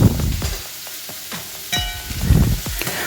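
Sliced onions sauté in a hot pan for a green peas curry, a steady sizzle broken by several scraping stirs of a spoon against the metal, close and fairly loud.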